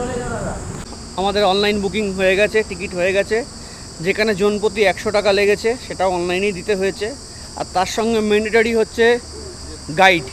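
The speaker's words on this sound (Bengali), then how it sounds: "ঝিঝি পোকার ডাক" Crickets chirp steadily throughout at a forest site in Similipal, a constant high trilling drone running beneath someone talking close to the microphone.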